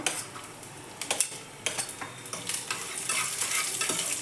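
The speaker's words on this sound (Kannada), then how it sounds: "ಮತ್ತು ಸ್ವಲ್ಪ ಶುಂಠಿ ಹಾಗೆ ಬೆಳ್ಳುಳ್ಳಿ ಸ್ವಲ್ಪ ಎಣ್ಣೆಲಿ ಫ್ರೈ ಆಗಬೇಕಿವು" Ginger and garlic frying in oil with cinnamon and cloves, a steady sizzle broken by repeated scraping and clinks of a spoon stirring the pan, close and alone without speech.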